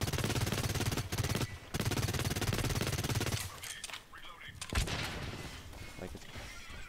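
A toxic SMG in the shooter game Blacklight Retribution fires long rapid bursts with brief pauses, then goes quieter with scattered game effects and faint talk.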